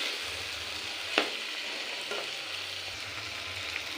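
Chicken pieces stir-frying in oil in a wok for a curry, with a steady close sizzle, a sharp scrape of the utensil near the start and a few softer stirring knocks later on.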